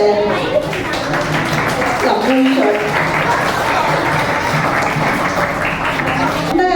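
Students clap together near the close of an eco-bottle terrarium workshop, a steady wash of applause under a voice speaking over the crowd throughout.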